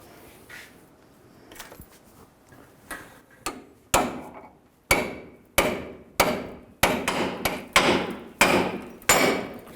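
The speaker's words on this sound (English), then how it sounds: "Another way you can try to do this is use the pickle fork." Hammer blows drive a pickle fork to split the idler arm joint on a 2000-06 GMC Yukon: sharp metallic strikes, sparse and light at first, then a steady run of about nine hard, ringing hits.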